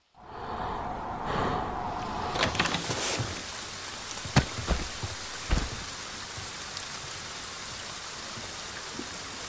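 Steady rain falls in the video game Friday the 13th: The Game, a constant hiss with a few sharp cracks and thuds over it and no voices.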